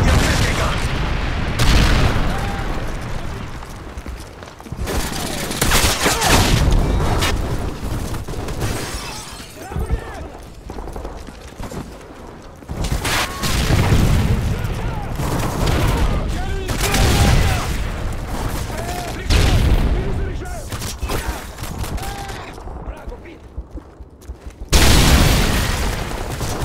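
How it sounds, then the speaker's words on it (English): Modern Warfare 3 multiplayer battle with a predator missile strike, heavy booming explosions and dense bursts of gunfire rolling loudly and continuously, with sharp impacts surging at intervals. "Predator missile inbound."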